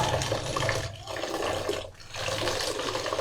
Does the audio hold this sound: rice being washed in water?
yes